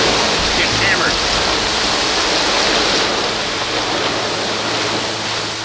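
Heavy storm rain with wind pounding during a whiteout over Wisconsin farmland, a loud, dense, continuous roar that holds steady throughout.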